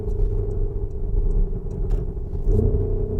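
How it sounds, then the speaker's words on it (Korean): Porsche Cayenne Turbo GT engine and exhaust in Sport Plus mode while driving, a steady low rumbling drone with a slight swell near the end, heard from inside the SUV without talk. "스포츠 플러스에서 배기음 소리가 훨씬 많이 난다고 하시더라고요"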